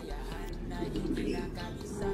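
Soft pigeons cooing under a steady hum of background noise, low rolling calls repeating throughout.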